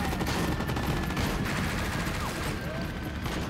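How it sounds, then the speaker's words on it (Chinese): Gunfire in a war film battle between guerrilla fighters and Japanese troops, a dense distant rattle of rifle and machine-gun shots continuing steadily under a faint hum. "对面射击"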